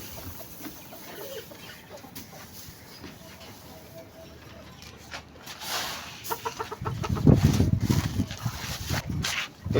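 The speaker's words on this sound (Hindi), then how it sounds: "सिल्की यहाँ मज़े ले रही है, यहाँ पर ये दाना वाना चुग रही है" Silkie chickens cluck and peck at fine grain inside a cage during cleanup, soft scattered clucks rising into louder, busier activity near the end, with faint background noise and no talk.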